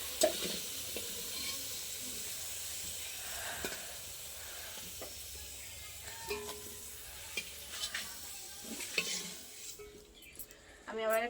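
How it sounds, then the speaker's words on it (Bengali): Potato pieces frying in oil in a pan for a khichuri meal, with a steady sizzle and intermittent stirring and utensil clinks, close by, with faint background noise and no clear talk. "আলুটা আবার লাল লাল ভাজা হয়ে গেছে"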